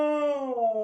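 A husky howls once, close by, in a short, tuneful, wavering cry that slides slightly in pitch and lasts under a second.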